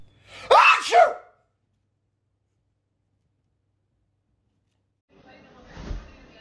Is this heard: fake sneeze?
yes